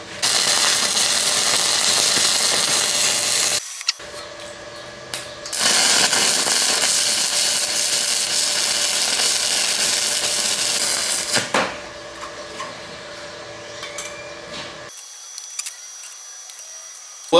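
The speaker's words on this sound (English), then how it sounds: "Let's go ahead and put a bead in and see what it does." A cheap $100 welder running on 220 volts lays a bead, giving a loud, steady crackling buzz for several seconds, stopping briefly, then resuming before dropping away to quieter hum.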